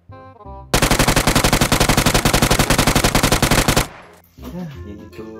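A long burst of rapid automatic gunfire in the PUBG video game, about three seconds of loud, evenly spaced shots while recoil is held, then a clatter and a voice speaking afterward.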